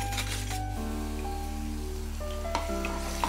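Ground raw onion paste sizzles in hot frying oil, a steady hiss dominated by background music, with a couple of faint clinks near the end.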